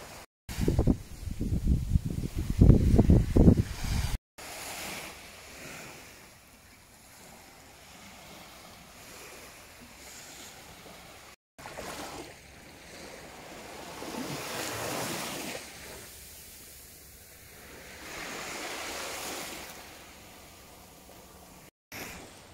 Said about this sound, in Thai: แล้วก็มาสปาหูแบบฟังเสียงคลื่นทะเล